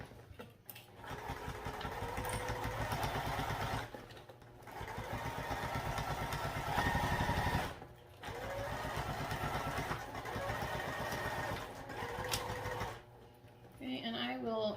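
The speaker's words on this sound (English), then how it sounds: "we'll put this on with a basting stitch of 1/4 inch" A sewing machine runs a 1/4 inch basting stitch in long steady bursts, a close mechanical whirring hum that stops briefly between runs.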